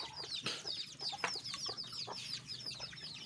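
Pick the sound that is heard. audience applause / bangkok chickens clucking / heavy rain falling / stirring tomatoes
bangkok chickens clucking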